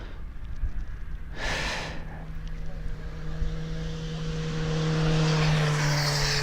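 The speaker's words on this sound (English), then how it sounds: "Phil Tovey, it should be out very, very soon now. The jumbo, that's what we're talking about" A jumbo jet at East Midlands Airport, a broad steady engine roar with a rising tonal whine, heard from a distance and swelling slightly toward the end, with a brief breathy burst near the microphone early on.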